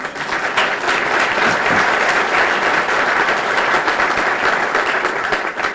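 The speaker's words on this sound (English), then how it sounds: "He needs a little applause, don't you think?" A room full of people applauds at a 1995 National Honor Society ceremony as a member is called up for a pin and membership card: loud, dense, continuous clapping for about six seconds.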